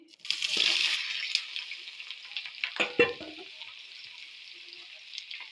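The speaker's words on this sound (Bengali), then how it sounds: "তেল গরম হয়ে গেছে, এঁচড়টা দিয়ে দিচ্ছি" Loud hissing sizzle of jackfruit dropped into hot mustard oil, with stirring scrapes and a clatter of utensils against the pan, fading to a steady fry.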